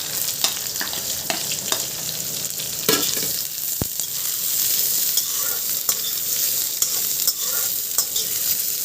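Chopped onions frying in hot oil with whole cumin and two dried chillies, a continuous close sizzle broken by frequent sharp stirring clinks and scrapes of a spatula against the pan.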